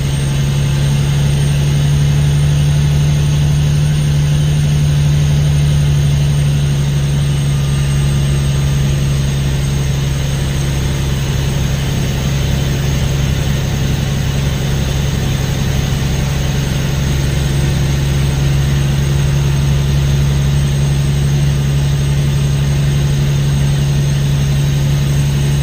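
Peterbilt 379 truck engine under load while pulling a heavy haul up a hill, a loud, steady low diesel drone that holds unbroken for the whole stretch.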